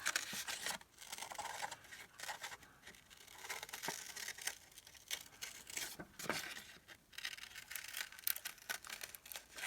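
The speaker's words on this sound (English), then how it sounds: "Just cut out the other circle." Scissors snip around a paper circle cut from book paper for a spring blossom flower embellishment, with soft crinkling and rustling strokes that sound close and fairly quiet.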